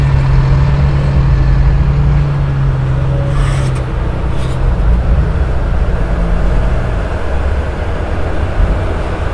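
A Hino 344 ten-wheel truck drives along in a loud, steady engine rumble with a low droning hum that holds for the whole stretch, with no talking.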